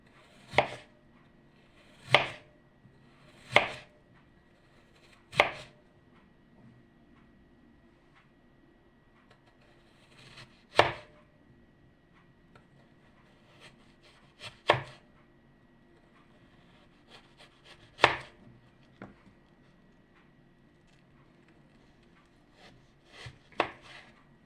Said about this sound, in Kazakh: Картошканы ұсақтап турап.